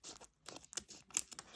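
Scissors snipping open a Japanese 25th anniversary Pokemon card pack, with quiet crinkly cuts and tearing of the foil wrapper in short irregular bursts, close and faint.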